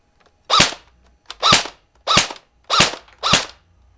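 Five evenly spaced sharp cracks from an Echo1 E90 airsoft gun firing single shots in semi-auto mode, each short and close, with quiet gaps between them.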